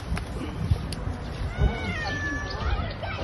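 A cat meows repeatedly during a rescue at the top of a mountain, its rising, wavering cries moderately loud over rustling background noise with occasional faint voices nearby.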